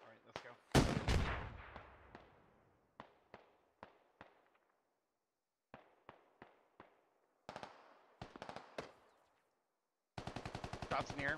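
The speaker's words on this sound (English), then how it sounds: "I have a suppressive fire going down" Gunfire in the military shooter game Squad: sharp close shots, first in uneven single and paired bursts, then a fast automatic volley at the end, with brief quiet gaps between.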